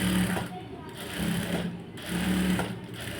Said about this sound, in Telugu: ఇప్పుడు మనం పైనుంచి స్టిచ్చింగ్ చేసేసి చక్కగా ఇలా కుట్టు వేసేసుకోవాలి